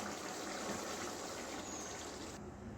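Cooked egg and pointed gourd curry pours into a bowl in a steady, close, continuous liquid stream that cuts off sharply near the end.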